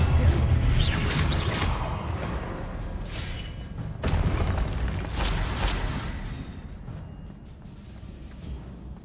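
Confringo blasting-spell explosions go off in Hogwarts Legacy, several booming bursts in a row with rumbling tails, loud and close, then fading to quieter background.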